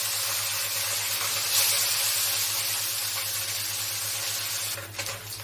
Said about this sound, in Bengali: এই যে তেল গরম হয়ে গেছে। এরপর আমি মাছগুলোকে আস্তে আস্তে ছেড়ে দিলাম।